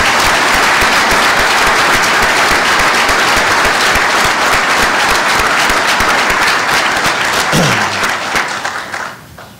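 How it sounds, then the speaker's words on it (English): A large audience claps steadily and loudly for several seconds, a dense wash of applause that tapers off at the very end. "I think we have a round of applause for all our district firefighters."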